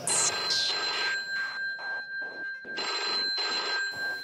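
Telephone bell ringing within a Bhojpuri folk song, repeated electronic ring bursts in a steady on-off rhythm, loud and close, with no voices over it.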